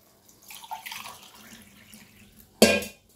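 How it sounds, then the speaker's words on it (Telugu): Water is poured into a cooking pot while a coconut snack is being made, a gentle splashing pour that rises and fades, followed by a sharp, loud clatter of the vessel near the end. "4 గ్లాసుల వాటర్ పోసేసా."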